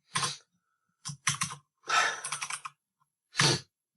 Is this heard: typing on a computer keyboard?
yes